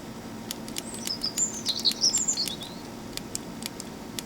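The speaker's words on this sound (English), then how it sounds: "There's some more birds." Several birds chirp in a series of short, high tweets and trills during an AR Blaster augmented reality shooting game, with faint clicks and a low steady hum underneath.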